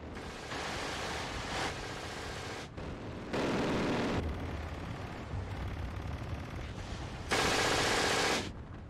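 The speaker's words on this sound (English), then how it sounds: "We will mow them down with our abundance of MG42s" Bursts of MG42 machine gun fire in the World War II strategy game Steel Division 2, three dense roaring volleys of roughly a second each separated by brief pauses, over a steady battlefield rumble with no talking.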